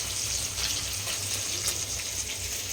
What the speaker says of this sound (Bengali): তো এখন মাছটা ভেজে নিই লাল লাল করে ভেজে রাখি